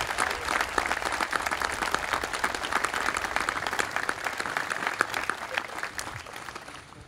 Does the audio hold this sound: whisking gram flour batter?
no